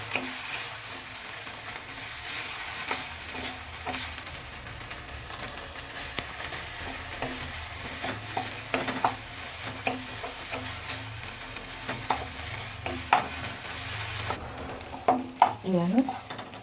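Sliced onion and fried potatoes sizzle steadily in a hot pan while being stirred, with scraping spoon strokes and light clinks of utensils growing more frequent toward the end.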